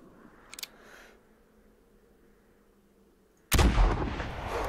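A hunting rifle fires at a moose in the video game theHunter, a single loud, sharp blast with a rolling tail that follows a few faint clicks and a quiet stretch.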